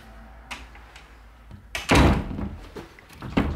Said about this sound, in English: We'll now close this door here, lock it up, and test out our door.